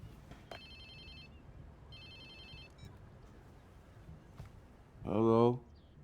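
A telephone rings briefly in Watch Dogs 2, two short bursts of ringing early on, followed later by a loud voice speaking over quiet game ambience.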